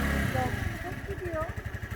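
A motorcycle engine rumbles and revs in short surges, close by, while people talk over it.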